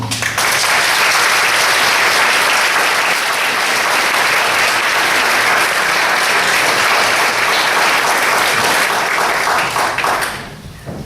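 An indoor audience at a Transgender Day of Remembrance event in Nassau County bursts into loud, sustained applause that holds steady for about ten seconds before quickly fading.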